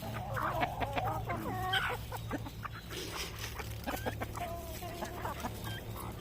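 Native chickens cluck and squawk close by while being fed cracked corn, with repeated short clucks and some louder calls over a low background hum.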